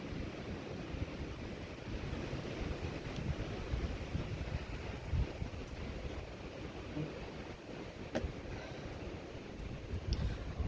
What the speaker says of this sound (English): I'm gonna wait for the wind to die down just a little bit.